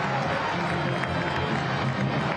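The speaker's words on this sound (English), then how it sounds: "A much-earned pop-off from the crowd after Cameron Dunbar puts that one away right in front of goal." A stadium crowd roars after a goal in a pro soccer match between Orange County SC and Colorado Springs Switchbacks FC, a dense, loud, continuous wash of cheering, with a voice faintly present.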